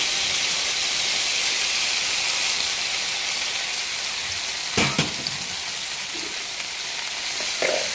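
Okra frying in oil with salt and turmeric, a constant loud hissing sizzle close up, broken by a couple of sharp clatters of stirring, with no voices.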